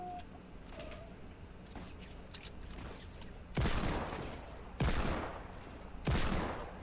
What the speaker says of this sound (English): I was shooting everywhere else but you.